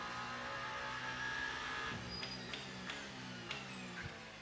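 An Isotta Fraschini race car engine in the Le Mans Ultimate racing game drones steadily and faintly with a sustained tonal whine, then shifts into a series of quick gear changes and pitch jumps.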